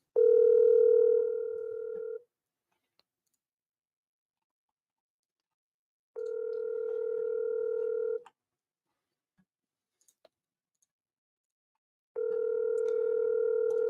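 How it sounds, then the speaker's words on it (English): Telephone tone sounding in three steady two-second bursts separated by silence, a call being placed back to a seller, clear and alone with no talk. "All right, let's dial him back."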